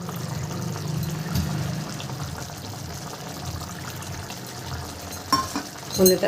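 A Bhola fish jhal curry with coriander leaves simmers in a pan with a soft, steady bubbling hiss. A few louder utensil clinks and knocks come near the end.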